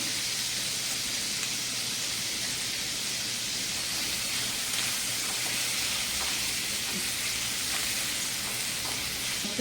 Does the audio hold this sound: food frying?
yes